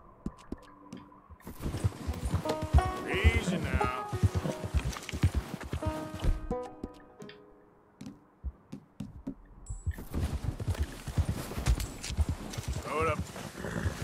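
Horse hooves clip-clop on a horse in Red Dead Redemption II, steady thudding steps that start and stop across the scene, mixed with game sounds and a speaking voice.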